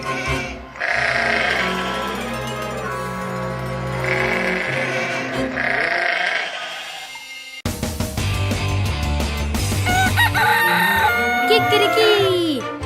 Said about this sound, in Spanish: Así imito el canto del gallo, pero en realidad suena de esta manera.